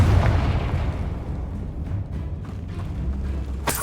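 A Confringo spell blast in Hogwarts Legacy, a deep booming explosion with a rumbling tail that fades, followed by a sharp crack at the end, loud and close with no talk.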